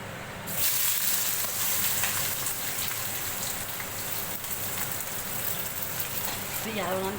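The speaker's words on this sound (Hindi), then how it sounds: "जिसके लिए हमने 7-8 प्याज लिए और इन्हें हमने काट लिया। अब हम इन्हें फ्राई कर लेंगे" Seven or eight chopped onions frying for keema masala, a dense steady sizzle and crackle of oil running throughout, fairly close and even in level.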